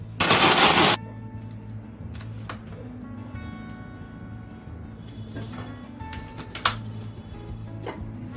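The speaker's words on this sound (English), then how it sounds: "Now grind the seedless dates into fine paste" A mixer grinder blending seedless dates into a fine paste roars loudly for about a second and then cuts off, leaving a low steady hum with faint clicks.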